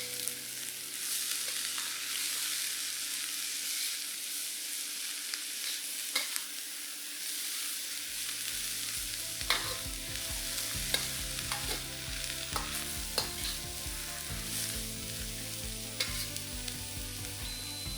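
Cabbage stir-fried with dried shrimp, pepper and spring onion greens hisses steadily while a spatula scrapes and taps the pan in a busy, irregular rhythm, close and fairly loud.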